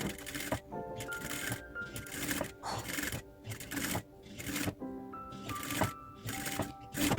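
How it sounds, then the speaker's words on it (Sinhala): Sewing machine stitching piping onto a dress, in short bursts of rapid mechanical chatter separated by brief pauses, close and clear with no talk. "මසාගත්ත පයිපින් කොටස පයිපින් පැත්තට හරවලා මැස්මක් දා ගන්නවා."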